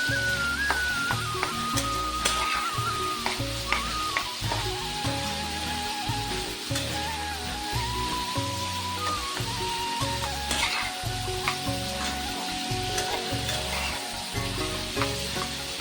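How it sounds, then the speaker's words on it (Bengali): Cauliflower fries with ginger paste in a pan, giving a steady, close sizzle that runs through the whole stretch, with faint tonal background sounds mixed in. "আদা বাটাটা দিলে ফুলকপি ভাজা খেতে ভালো লাগে"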